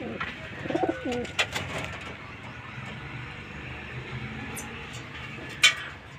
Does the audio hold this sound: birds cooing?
yes